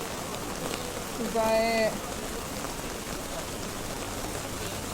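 Rain patters steadily on surfaces in Mongkok market, Hong Kong, a constant close hiss; a brief voice speaks once near the start.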